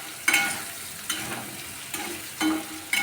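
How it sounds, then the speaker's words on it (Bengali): Parboiled potatoes fry in a pan with a steady, close sizzle, broken by several sharp bursts of crackle as they are stirred. No one speaks. "তো আলুগুলো একটু ভাজা ভাজা হবে"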